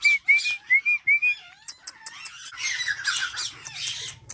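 A pet parrot on its first flight gives a run of loud, evenly spaced whistling squawks, then a busier stretch of shrill chatter and calls over a low background hum, with no talk.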